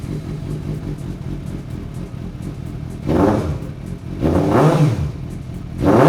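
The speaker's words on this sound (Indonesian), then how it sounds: "suara mesin 750 cc 4 silinder inline yang knalpotnya diganti pakai punya SC Project nih" A 750 cc inline four-cylinder motorcycle fitted with an SC Project exhaust idles with a rough, throaty burble, then is revved three times in rising, snarling blips, loud and close.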